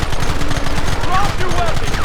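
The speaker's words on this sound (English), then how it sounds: "Open fire!" A shootout in the video game Red Dead Redemption brings dense, loud, continuous rapid gunfire with overlapping shots, along with shouting voices.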